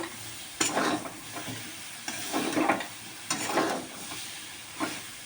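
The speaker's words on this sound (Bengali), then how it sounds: "কষাবো। দেখো" Food is sautéed (kosha) in a pan with a soft, steady sizzle, broken by a few bursts of stirring and scraping from a spoon against the pan. The sound is close and fairly quiet.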